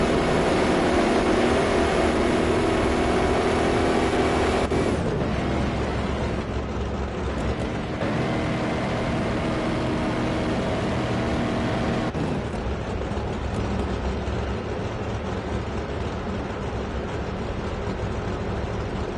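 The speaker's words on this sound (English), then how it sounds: "These engines hit decibel levels of 150 dB, which is as loud as a fighter." Pro stock drag racing engines roar through a pass at a drag strip, a loud and steady broadband drone that shifts in tone about a quarter of the way in and keeps going.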